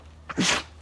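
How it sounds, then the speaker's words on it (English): A 14-year-old dog gives a single short, sharp sneeze, close up and fairly quiet, with faint room hum and no talking. "Oh, sneezes"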